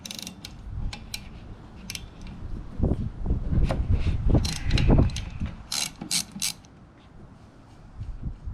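A ratchet works a strut nut loose on a 2015 Toyota Sienna, giving quick clicking bursts and metallic rattles in close, uneven spurts with short pauses between them.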